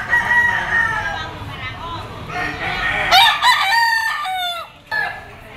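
A game fowl bull stag crows close by in a loud, drawn-out call, with clucks and other birds around it and a voice talking underneath.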